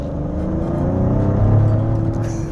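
A Maserati Grecale Trofeo SUV accelerates again after slowing, its engine building into a steady, loud rumbling drone with a rising whir, heard from inside the car with no talk.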